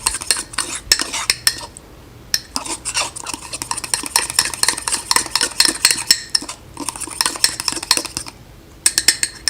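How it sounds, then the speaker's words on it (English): A spoon scrapes and clinks steadily against a bowl while stirring cake batter for a microwave cake, close and continuous with brief pauses and no talking. "We're just going to mix until you don't see any big lumps"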